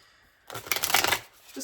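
A deck of tarot cards is shuffled once in a quick riffle lasting under a second, close and crisp, followed by a brief soft murmur.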